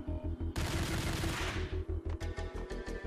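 Rapid bursts of machine gun fire in the Max Payne shooter, a dense loud fusillade with steady rhythmic shots carrying through the whole stretch.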